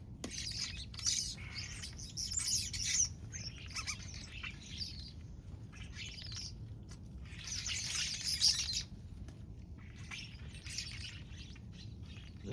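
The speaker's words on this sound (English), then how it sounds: "probably at least 10 or 12 birds in my tree right now." Many birds chirp and tweet together in a tree, a busy overlapping chorus of bright calls in irregular bursts, fairly close, over a low steady background rumble with no talking.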